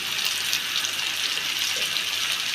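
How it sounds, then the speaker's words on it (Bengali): Water pouring into a pan of rohu fish curry, a continuous, even gushing splash close by that lasts the whole moment without speech. "একটু হালকা জল দিয়ে দিলাম, নেড়ে"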